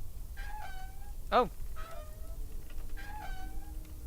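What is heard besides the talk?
cat meowing, from video game Deponia Doomsday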